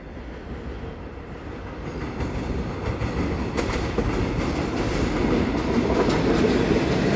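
A single-set EMU500 electric commuter train on the Yilan line passes through Ruifang, its steady rumble and clickety-clack of wheels growing louder and fuller as it draws near.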